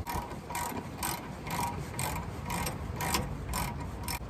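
A ratchet snugging down the brake caliper pins on a 2014 Toyota Tundra, a steady series of about nine evenly spaced clicking pawl strokes, close but quiet.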